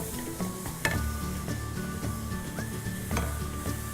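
Sauce with grated carrot simmers in a pan while a utensil stirs it, giving a low continuous bubbling sizzle with occasional soft scrapes and light metallic clinks; no voices.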